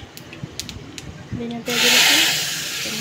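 Cumin seeds drop into hot oil for tempering and burst into a loud, close hiss that starts suddenly and keeps going. Before it, a quiet voice speaks with some light clinks.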